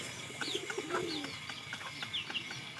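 Pigeons coo in soft repeated calls at moderate distance, with a few brief chirps in between and no voices.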